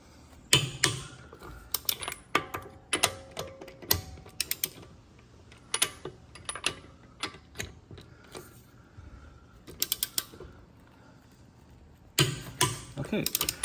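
A torque wrench tightens lug nuts on a Tesla Model 3 wheel, making a run of close, sharp clicks and ratcheting bursts in irregular clusters, with quieter gaps between and a final dense flurry.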